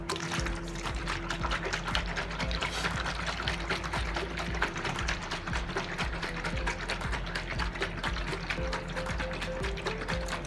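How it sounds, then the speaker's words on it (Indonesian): A closed container of French-made front shock absorber oil is shaken vigorously and continuously, so the liquid inside sloshes and rattles in a rapid, even rhythm, close and fairly loud throughout. "Kita tutup lagi, terus kita shake atau kita kocok"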